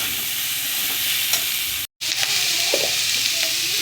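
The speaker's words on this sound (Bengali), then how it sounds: "পেঁয়াজকলিটাকে ভালো করে ভেজে নেবো একটু।" Onion stalks fry in hot oil in a pan, giving a loud, steady close sizzle with a brief break, then light stirring and scraping over the continuous frying hiss.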